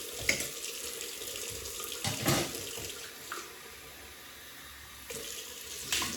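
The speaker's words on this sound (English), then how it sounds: "Right, cold water rinse." Water runs steadily from a tap, a continuous hiss and splash with a few brief clatters and knocks over it; a cold water rinse after a razor shave.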